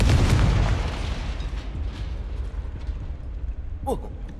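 A booming Confringo spell explosion in Hogwarts Legacy hits hard at the outset and decays into a long rumbling tail, with a brief voice heard near the end.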